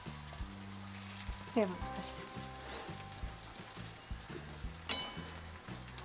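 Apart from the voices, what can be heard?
stuffed brinjals frying in a pan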